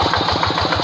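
A steady, close, rhythmic chugging comes from a Quick Impala paddy-plowing hand tractor whose blue Kubota engine runs at an even idle-like pace, loud and alone without talk.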